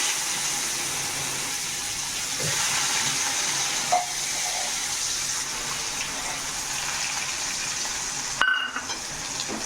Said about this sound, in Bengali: ফোড়নটা হয়ে এসছে তেলে, পেঁয়াজ কুচোগুলো দিয়ে দেবো